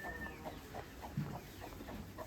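A hen clucking softly while moving about with her chick, a series of short, regularly spaced clucks at moderate distance over faint background noise.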